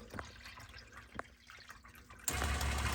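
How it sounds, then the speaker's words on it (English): Water is poured into a pump reservoir tank to trip its moisture sensor, first as a few faint, scattered drips and splashes, then a sudden loud, steady rush of pouring water that fills the last second. "So now we're going to introduce a little bit of water until we trip that moisture sensor"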